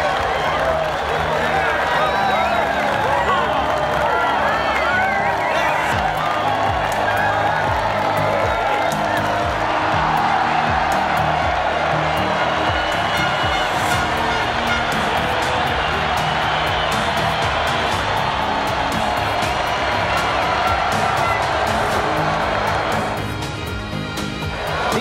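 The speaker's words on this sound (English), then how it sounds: "The applause from the team and fans is definitely deserved." A stadium crowd in the MotoGP 20 racing game at Phillip Island, Australia, cheers and applauds in a continuous loud roar that stays dense throughout, with a voice talking over it.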